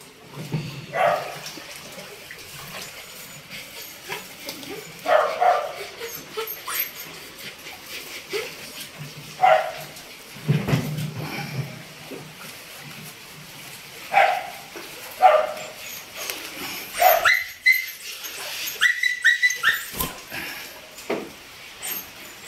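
Pet dogs bark and whimper in a dark, flooded house, making short, scattered cries and yelps at close range with faint water sounds and quiet stretches between them.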